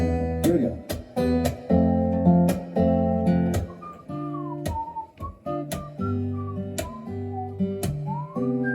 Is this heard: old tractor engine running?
no